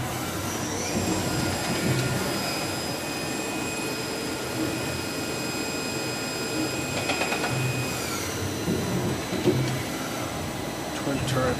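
A 2005 Miyano 51SY CNC lathe with twin turret and subspindle runs a machining cycle, giving a steady, loud mechanical whine and hum with whistling tones that shift partway through, plus faint clicks.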